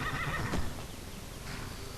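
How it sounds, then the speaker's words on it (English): A horse whinnies once in Skyrim, loud and close, with a faint clip-clop beneath and a steady background hum. "This is my new horse."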